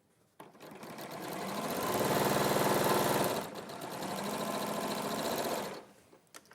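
A sewing machine sews a seam in two close, steady bursts of rapid mechanical whirring with a brief slowdown between, then stops, with no talking.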